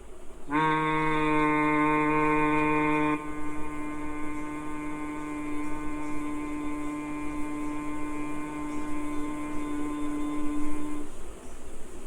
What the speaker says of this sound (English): Breathing out, make a humming sound.